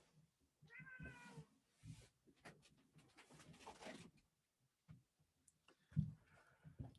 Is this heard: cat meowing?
yes